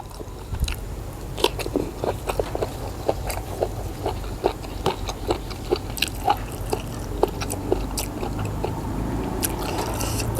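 Someone eating steamed tilapia with a spicy jaew dipping sauce, with close, irregular bites, crunches and wet chewing clicks repeating over several seconds and almost no talk.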